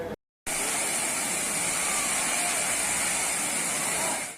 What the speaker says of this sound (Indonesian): Air terjun Lematang Indah ini terletak di Desa Perahu Dipo, Kecamatan Dempo Selatan, Kota Pagar Alam.